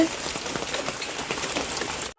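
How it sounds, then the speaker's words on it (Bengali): Rain patters steadily on a surface nearby, a soft continuous hiss of drops that cuts off abruptly at the end. "ফোটা ফোটা বৃষ্টি পড়তেছে"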